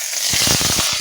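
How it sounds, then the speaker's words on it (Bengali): Small potato pieces frying in oil left over from frying lentil dumplings, a loud close sizzle with quick crackling bursts throughout a brief moment. "বড়ি ভাজার পরে ওই তেলেতে এই আলুগুলোকে ভেজে নিচ্ছি"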